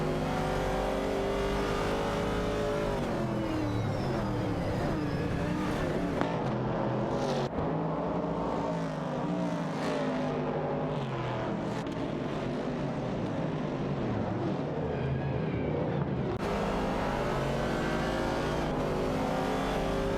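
Race cars in an AI racing video game roar continuously, their engine notes rising and falling through gear changes and turns as several cars run close together, steady and loud throughout.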